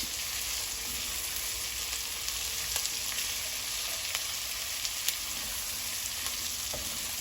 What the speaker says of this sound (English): the difference between sweating and frying onions